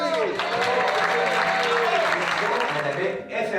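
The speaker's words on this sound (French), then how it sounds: "On les applaudit." Applause for the prize winners at a 2019 Challenge Blanc awards ceremony rings out as a crowd claps steadily while a speaker's amplified voice and tonal background sounds carry on over it, dipping briefly near the end.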